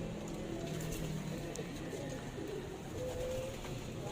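Soft, low coos from racing pigeons in a loft repeat over a constant background hum, fairly faint and close together, with some voices murmuring.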